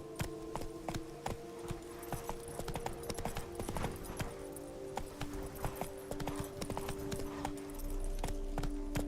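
Roach the horse galloping in The Witcher 3 on PS5, a steady, rapid clip-clop of hooves, close and continuous, over a low ambient game backdrop.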